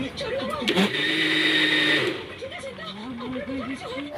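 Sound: electric mixer blending mangoes with milk

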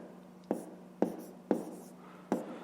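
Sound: writing by hand during a math lesson

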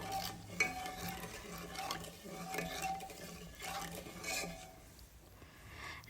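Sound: stirring egg biryani mixture in a pan

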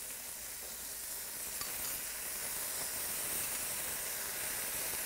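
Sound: tomatoes with juice poured over searing beef short ribs

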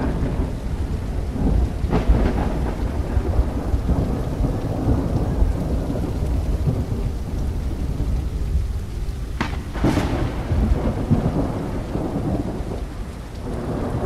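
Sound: rain and thunderstorm in Horror Tales The Beggar video game

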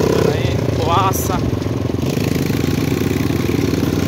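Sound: mini trail motorbike with Honda Biz 100cc engine

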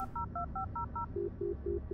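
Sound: Nokia phone keypad beeps in Blair Witch video game

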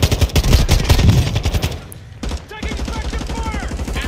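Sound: gunfire from the video game Call of Duty Warzone

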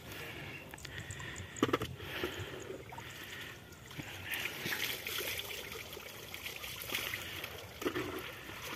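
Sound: small river water flowing

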